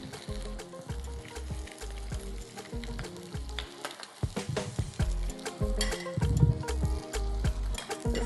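A stuffed sea bass coated all over in egg white sizzles in a hot pan, a steady crackling fry broken by a few clattering knocks of utensils against the pan.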